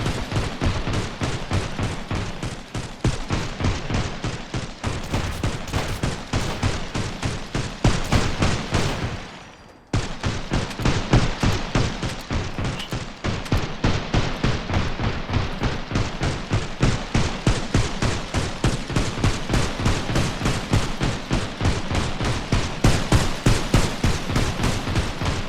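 Sustained automatic gunfire during a base attack in the video game Sunkenland, a loud rapid stream of regular shots running almost nonstop, with a brief pause midway.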